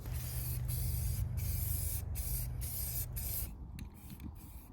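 Aerosol primer sprayed onto a Ranch Hand steel truck bumper and its bars, a steady close hiss broken by short pauses between bursts, then fading to quieter rattling handling noise.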